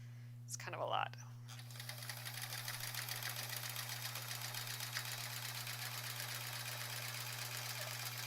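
A sewing machine doing free-motion quilting with a ruler foot runs in a fast, steady mechanical patter after a brief rustle of handling at the start, with a constant low electrical hum underneath.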